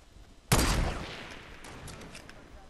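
A single sharp gunshot cracks out in a Fortnite match, loud and close, its echo tailing off over the next couple of seconds with faint distant shots behind.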